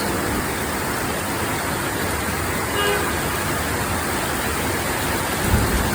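Steady rain falls over Dhaka city, a dense, even hiss that holds unbroken throughout with a faint rumble of street traffic beneath it.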